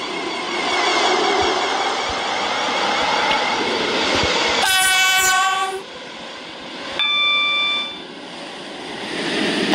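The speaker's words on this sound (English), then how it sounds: "train is now approaching Stepford Airport Parkway" Train pulling into Stepford Airport Parkway station in the Roblox game Stepford County Railway, a loud steady rumble of the approaching train broken by two sharp blasts of its horn.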